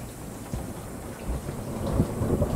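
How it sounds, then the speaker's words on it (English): Steady rain with rumbling thunder in the horror video game Escape the Backrooms, a continuous wash of rainfall under low rolling booms that swell slightly toward the end, with no voices. "There's lightning. I just hear thunder."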